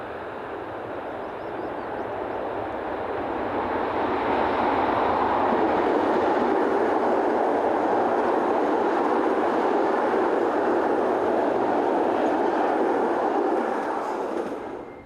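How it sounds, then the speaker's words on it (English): Railway units 844 and 818 run east past a small-town station at the western end of a rail yard, a rumbling train that grows from distance into a loud, steady rolling roar with faint wheel clatter before easing off. "Units 844 and 818 head east"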